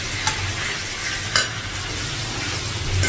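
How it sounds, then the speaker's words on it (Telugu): Onion pieces frying in hot oil in a pan, a steady close sizzle with a few brief utensil clicks, no talking. "ఇప్పుడు ఉల్లిపాయ ముక్కలు వేసుకోవాలి."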